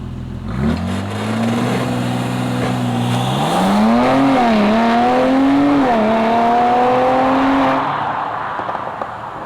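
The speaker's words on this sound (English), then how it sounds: "that sounds pretty good, because under the hood there's a 3-liter twin-turbo V6" A 2020 Mercedes-AMG GLC 43 4Matic's 3-liter twin-turbo V6 revs hard and climbs in pitch, holding loud and steady with a few rising surges before easing off near the end, heard from outside.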